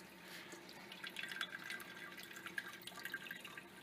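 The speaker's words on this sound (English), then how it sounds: "Drilled a little hole for the water to dump out of." Water trickling and dripping through a small drilled drain hole in a hydroponic bucket, a soft steady run of close splashes and drips with no talking.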